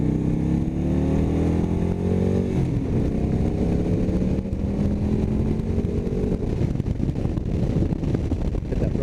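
A Victory Hammer 8-Ball motorcycle engine held against the rev limiter, a loud continuous roar with a rising pitch that stutters and drops as the limiter cuts in, then keeps buzzing at high revs.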